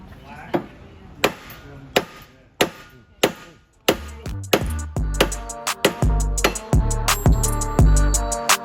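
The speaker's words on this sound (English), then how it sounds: "Giving it some love taps with the hammer." A hammer taps a metal Honda EF spindle repeatedly, first in slow spaced ringing strikes, then faster and heavier blows with clanging resonance, close and loud.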